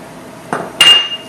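Dried apricots tumble into a metal pan of warm homemade granola mixture: a soft muffled thud, then a sharp, close metallic clink with a short ringing tail, heard alone without any talking.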